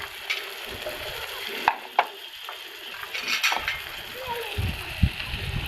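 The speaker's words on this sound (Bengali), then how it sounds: "এবারে আদা রসুন বাটাটা দিয়ে দেবো। পরিমাণ মতন হলুদ দিয়ে দেবো" Ginger garlic paste and turmeric sizzle with fried onions in a pan, a steady frying hiss broken by a few stirring knocks and splatters, while a person talks over the cooking.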